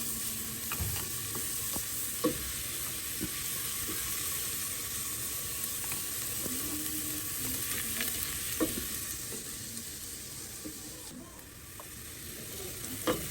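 Garlic and ginger sauté in a pan for tinola, a steady hissing sizzle with occasional utensil scrapes and clicks throughout, fairly close and continuous.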